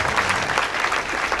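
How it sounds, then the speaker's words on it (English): A seated audience applauds the student unions at a grassroots political gathering, a brief dense stretch of clapping from a crowd, steady and fairly loud. "A clap for them."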